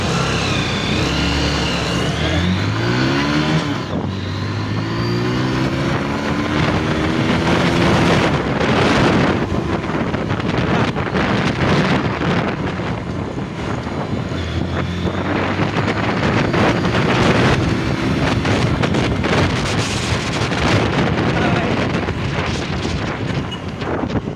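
A Bajaj CT100 motorcycle running on the road, its engine revving and shifting in pitch early on, then largely buried under strong wind roar.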